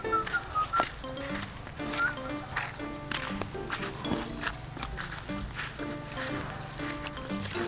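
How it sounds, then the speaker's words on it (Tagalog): A horse moves about in a busy outdoor setting, with faint hoof clip-clops and a possible soft whinny mixed into steady background noise. "naman tong kabayo na ko eh"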